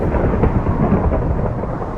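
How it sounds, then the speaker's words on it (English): A lightning strike in the Minecraft video game brings a loud, rolling thunder rumble that fills the whole moment, with a rain-like hiss beneath it and no talk. "What we want is a lightning strike on"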